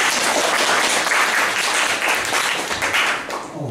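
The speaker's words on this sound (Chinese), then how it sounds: "掌声欢迎一下。" An audience at a lecture event claps in a dense, steady round of applause that stays loud and close for a few seconds, then thins slightly toward the end.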